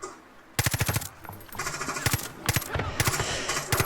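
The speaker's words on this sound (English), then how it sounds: "I do like the shooting on this game. It is quite realistic with the recoil." Rapid automatic gunfire in Far Cry 5, played on the hardest setting: bursts of fast, punchy shots with short pauses between them over a low game background.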